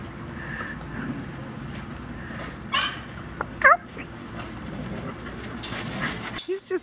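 Dogs give short yips and whimpers in a few quick bursts, fairly close, over a steady background with a voice speaking briefly near the end.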